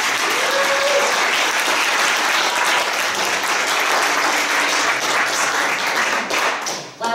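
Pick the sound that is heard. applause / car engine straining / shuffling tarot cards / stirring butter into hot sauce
applause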